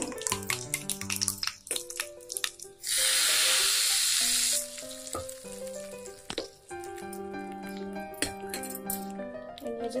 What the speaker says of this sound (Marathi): आपण आता ह्याच्यात राई आणि जिरे टाकून घेऊ आणि मिरची, सुकी मिरची आहे